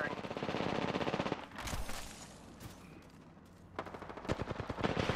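Automatic weapon fire from Apex Legends, rapid bursts of shots at close range, with a pause between two volleys and other game sounds in the gap.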